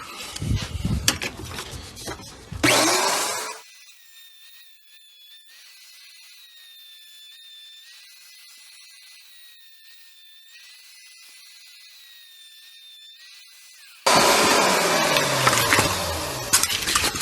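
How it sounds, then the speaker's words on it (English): A router cuts a rabbet into a wooden fence-picket box, giving loud, harsh bursts of cutting noise at the start and again at the end, with a quiet steady hum in between. "I'm gonna go ahead and get this rabbet routed out"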